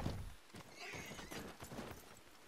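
A horse gallops and neighs in a video game, with close hoofbeats and a whinny that together form a steady, fairly quiet stretch of motion.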